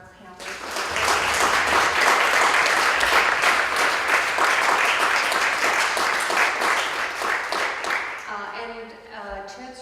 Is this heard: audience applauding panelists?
yes